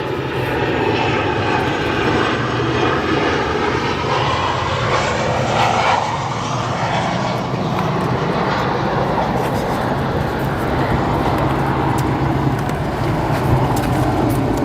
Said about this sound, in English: Southwest Airlines flight coming in here.